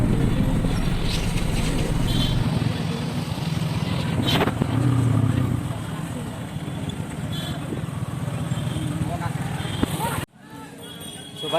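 A motorcycle idles and rumbles as it is brought to a stop at a large weekly market, with a voice talking over the engine noise before the engine cuts out abruptly near the end.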